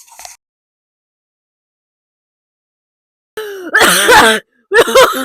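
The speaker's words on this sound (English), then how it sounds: "Started coughing too." After a stretch of silence, a few harsh, loud coughs burst out close by, strained and raspy, separated by a brief pause.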